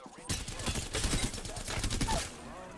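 Rapid bursts of gunfire crackle through an Apex Legends match, sniper and weapon shots mixing into a dense, fairly faint fusillade lasting a few seconds.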